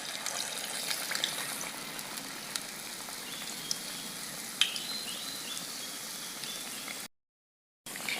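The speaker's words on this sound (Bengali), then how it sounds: "এই যে বেসনের গোলায় ডুবিয়ে আমি তেলে দিয়ে দিচ্ছি" Bottle gourd and red lentil paturi coated in gram flour batter frying in hot oil, a steady close crackling sizzle running for about seven seconds with a few sharp pops before cutting to silence.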